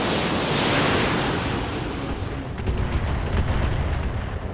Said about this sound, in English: That was a couple of large lasers.